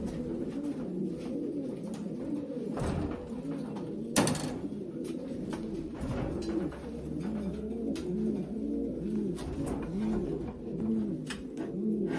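Racing pigeons being basketed for a race coo repeatedly and rhythmically at close range, several birds overlapping, with occasional clicks and knocks of handling and the basket.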